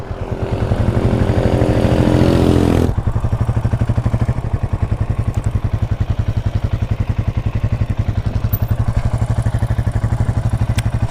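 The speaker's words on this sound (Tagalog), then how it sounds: "Pasok na natin yung motor natin doon." A Cafe 400 motorcycle engine runs steadily while riding, its rapid putt-putt pulse continuous and close, with a louder revving stretch at the start.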